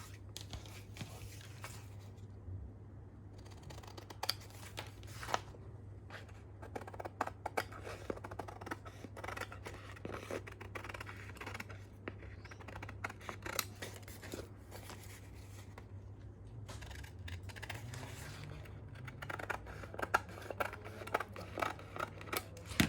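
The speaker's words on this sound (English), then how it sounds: "So I'm just cutting away that excess. Just be careful you don't cut into the fabric too much." Scissors snip repeatedly through excess Easy Fix interfacing close to fabric, giving close, quiet, irregular cuts and crinkles over a steady low hum, with no talking.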